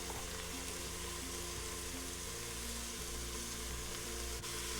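Three strips of chopped bacon and a diced medium onion sizzle steadily in an Instant Pot on the saute setting, a dense continuous frying crackle with a low hum beneath and no talking.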